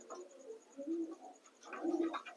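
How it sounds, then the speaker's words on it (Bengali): Pigeons, a male and a female, coo in two soft rounded bursts near the start and again toward the end, close by, with no talk. "এইটা মেল পায়রা এধারেরটা মেল পায়রা আর এটা হচ্ছে ফিমেল"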